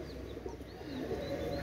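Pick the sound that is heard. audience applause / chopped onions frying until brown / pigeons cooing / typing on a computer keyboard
pigeons cooing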